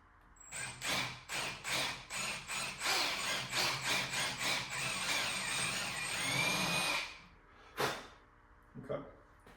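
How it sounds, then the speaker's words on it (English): Power drill boring a hole while building RC sliders: a run of rhythmic whirring bursts, then a steady grinding stretch and a final short burst, close and fairly loud. "where it's actually going to be a lot easier to drill a hole"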